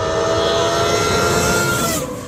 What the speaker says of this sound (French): un mystérieux pilote a roulé en monoplace sur l'autoroute et est activement recherché par la police